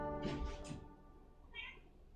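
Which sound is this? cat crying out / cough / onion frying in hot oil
cat crying out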